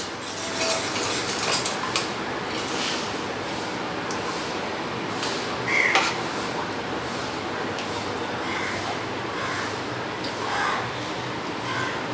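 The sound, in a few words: stirring pasta mix with fish in a bowl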